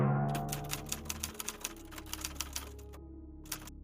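A typewriter clacks out quick, even keystrokes after a fading low hum. The key strikes are crisp and close, ending with a pause and one final strike.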